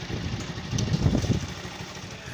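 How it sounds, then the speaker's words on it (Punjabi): Motorcycle engine running low on petrol on a broken, bumpy road, a steady low rumble with a rough, uneven surge in the middle of the clip, heard close throughout. "ਨਾ ਪਤਾ ਲੱਗਦਾ ਮੋਟਰਸਾਈਕਲ ਦਾ ਪੈਟਰੋਲ ਖਤਮ ਹੋਇਆ ਤਾਂ ਝਟਕੇ ਲੱਗਦੇ ਪਏ"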